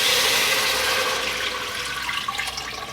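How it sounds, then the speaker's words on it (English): Broth and tomatoes pour into a cooking pot in one steady, close, splashing liquid rush that slowly eases off over about three seconds. "I'm going to go ahead and add in my broth and my tomatoes,"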